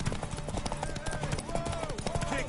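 Horse hooves clip-clopping in The Witcher 3, a steady run of short hoof beats mixed with game music and a voice talking over them.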